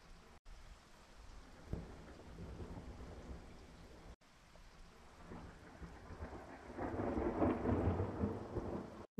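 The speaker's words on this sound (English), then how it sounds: "Like there could be thunder as well." A thunder sound effect for layering into a song: a low rolling rumble over steady rain that swells louder toward the end, with no voices.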